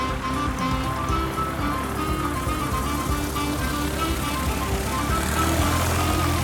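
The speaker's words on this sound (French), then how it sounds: "Les moteurs ont démarré." Seaplane engines running steadily in a cartoon scene, a continuous droning hum with no break and no talking.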